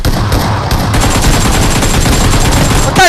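Dense, loud rapid gunfire from the mobile battle-royale game BGMI, a continuous barrage of overlapping automatic shots lasting the whole stretch with no talking.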